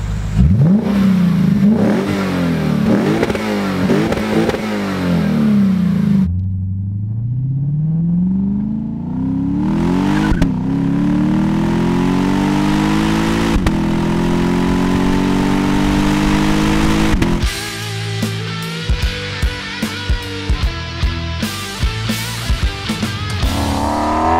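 A Lexus IS F engine revs hard repeatedly through an aftermarket exhaust, roaring and rising in pitch, settling to idle between blips, with crackles and pops at the end.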